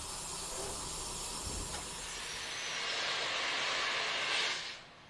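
A British Railways Standard Class 5 steam locomotive hisses loudly as it starts a nine-coach train on a curved 1 in 100 gradient, a broad sustained steam roar that swells and then cuts off near the end.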